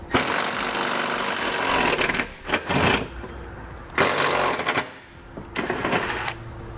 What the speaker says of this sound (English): So we're going to grab a 14mm socket and we can pull those bolts out.